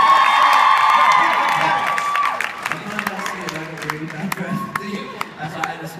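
An audience applauds and cheers for Tom and Dougie at a children's book reading, loud clapping and whoops that taper off as voices begin talking over the fading claps.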